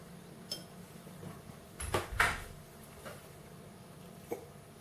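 Polishing paste being stirred with household vegetable oil in a small dish while cleaning electric shaver blades: faint, scattered clinks and a brief scraping rustle in a quiet room.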